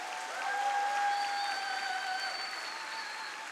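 A church congregation at a Sunday service applauds politicians, a smooth continuous wash of clapping from a large crowd, steady and moderately loud, with faint sustained tones behind it.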